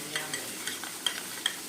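Maggi masala and tomatoes stirred in a frying pan, a steady close sizzle broken by light scraping strokes and small metallic clinks of the spoon against the pan.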